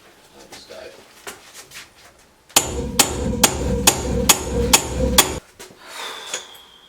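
A hammer strikes a shelf bracket about eight times, sharp and close in a steady rhythm over roughly three seconds. Quieter handling sounds come before and after.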